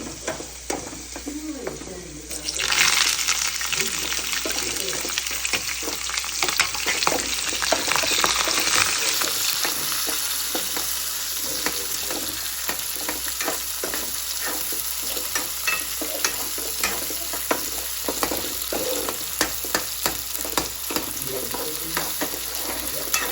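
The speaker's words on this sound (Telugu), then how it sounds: "ఇవన్నీ మొత్తం కూడా సిమ్లో మాత్రమే వేయించాలి" Coconut pieces and poppy seeds fry gently over low heat in a pan. A continuous close sizzle runs throughout, broken by frequent scraping and clinking strokes of a spoon stirring against the pan.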